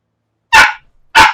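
A pet puppy gives two sharp, loud barks close by, spaced about half a second apart, with silence before and between them.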